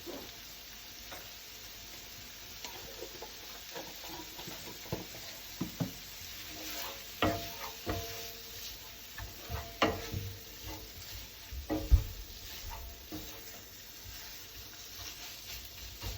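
Tinned tuna curry with extra turmeric sizzles quietly in a pan, with irregular scrapes and knocks of stirring that grow a little louder toward the middle, no speech.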